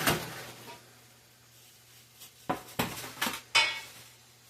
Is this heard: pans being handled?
yes